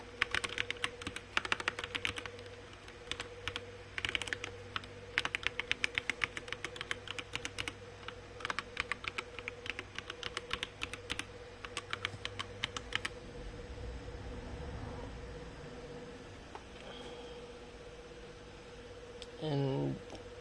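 Rapid keyboard typing as a username and password are entered at a Windows Server login, steady clicking bursts over a constant electrical hum, fading out partway through, with a brief thump near the end.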